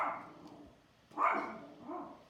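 A dog gives a couple of faint, distant barks, the kind one dog sets off in others, with short pauses between them.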